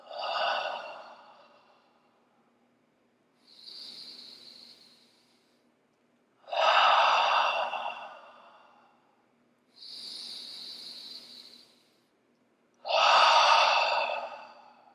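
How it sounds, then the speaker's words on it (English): Slow, deep breaths during a guided relaxation exercise, three long breathy exhales alternating with two softer hissing inhales, close and steady with pauses between, no talking. "A few breaths like this. Letting go on the exhale."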